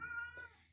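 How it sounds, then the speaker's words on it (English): A single short, faint cat meow with a tonal, slightly wavering pitch, heard close and alone. "that's my cat."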